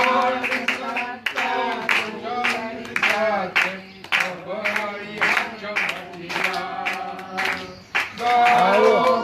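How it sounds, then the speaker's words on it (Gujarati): A crowd claps loudly in a sharp, regular beat while singing a joyful Easter hymn together, the voices and hand claps close and full throughout. "મોટેથી તાળી પાડી ગાવ"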